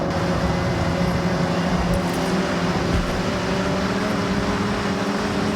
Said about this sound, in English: The car sounds from the interior camera are sick.